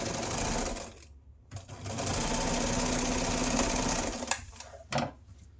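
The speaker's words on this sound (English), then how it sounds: "I just back stitched over my loop one more time just to ensure it's strong" Sewing machine back-stitching over a fabric loop on a wand holster, running in a steady loud whir with brief pauses and restarts near the close.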